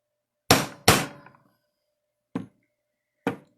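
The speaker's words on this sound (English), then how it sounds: "I'm going to take a center punch, little center punch, and make a little divot in" A small center punch is struck against a copper pipe to make a divot: four sharp metallic taps, two quick ones close together, then two more spaced out, crisp and near.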